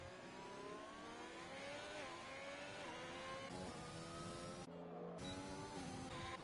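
McLaren race cars in a racing video game run on the Canada track, a steady, fairly faint engine whine with rising and falling pitch as cars pass, no talking.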